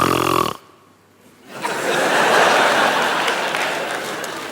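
A performer snores loudly in a stage comedy sketch, a single rasping snore, followed by a short pause and then a long swell of audience laughter and applause.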